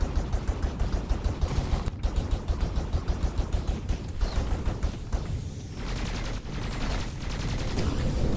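Rapid rhythmic bursts of gunfire from mounted guns in the video game Skyforge, a steady stream of sharp shots running nearly throughout, loud and close, with a voice talking over it.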